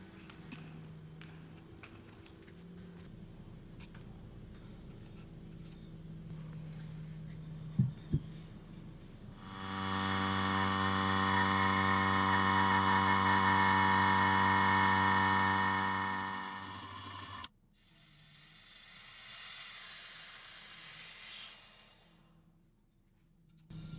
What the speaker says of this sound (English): I'm going to go pop this in the vacuum chamber.